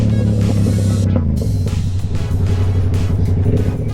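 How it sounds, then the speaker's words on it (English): A large tractor's heavy engine rumbles loud and close on a road with a deep, throbbing low drone, passing nearby without letup. "That's a big tractor."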